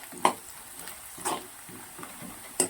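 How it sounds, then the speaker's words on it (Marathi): Peanuts being roasted and stirred in a pan for kande pohe, with soft, faint scraping strokes recurring about once a second and a few light clinks against the pan. "मी घालतोय आता शेंगदाणे हे बघा हे शेंगदाणे घालून घेऊया आणि आता हे मस्तपैकी भाजून घेऊया"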